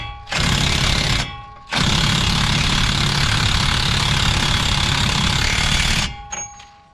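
An impact or power tool runs the axle nut onto a Silverado wheel bearing in loud, close bursts, one short burst, a brief pause, then a long sustained run that stops sharply, with no talking.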